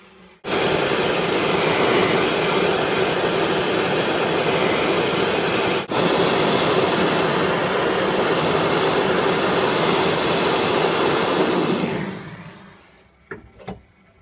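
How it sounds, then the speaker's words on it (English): A soldering torch roars steadily and loudly while a small piece is soldered onto the shaft of a silver goblet, holding constant for about eleven seconds before fading out, followed by a few faint clicks. "I'm just going to solder the little piece on at the bottom."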